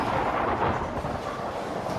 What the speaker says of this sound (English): That creates a sound wave known as thunder.